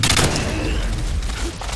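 Sniper rifle fire in a free-for-all video game match on the Underpass map. A loud, close burst of gunshots cracks at the start, and its echoing rumble fades over less than two seconds.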